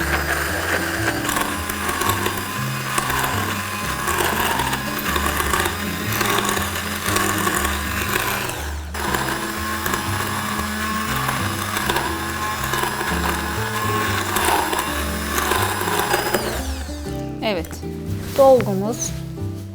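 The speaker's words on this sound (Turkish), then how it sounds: "Bu yüzden blender'dan geçiriyoruz." A blender whirs and churns a thick pistachio filling with a rhythmic grinding, mechanical texture, running steadily before stopping near the end, with a voice speaking.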